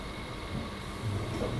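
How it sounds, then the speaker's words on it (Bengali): A local train pulls out of Mainapur station in the evening, a low steady rumble of wheels and carriage noise that grows slightly louder as it moves off, with no voices. "চলো আমাদের ট্রেন কিন্তু আবার রিটার্ন ছাড়ছে এই ময়নাপুর থেকে"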